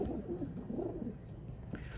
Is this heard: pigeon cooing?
yes